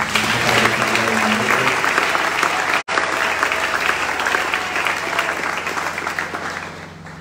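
A church congregation bursts into sustained, loud applause acclaiming the Lord, dense clapping from many hands continuing for several seconds with a brief cut midway before tapering slightly at the end.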